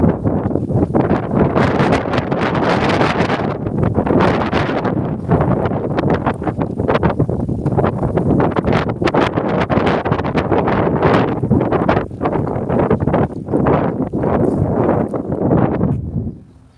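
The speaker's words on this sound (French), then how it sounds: "là j'ai le vent dans ma gueule" Loud, constant wind buffeting against a microphone, roaring and gusting throughout with no clear voices.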